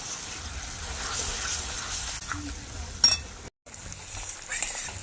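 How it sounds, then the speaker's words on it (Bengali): Spiced masala stirred and fried in oil in a pan for a fish curry made with live koi fish, a steady sizzle under scraping stirs, a sharp clink near the middle and a brief dropout after it. "এবার নাড়াচাড়া করে নেবো আর মশলাটা ভালোভাবে কষিয়েও নেবো"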